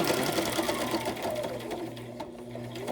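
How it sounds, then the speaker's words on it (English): A sewing machine runs steadily with a rapid mechanical stitching rhythm, close and fairly loud, with no pauses. "my sewing machine's gonna jam up on me"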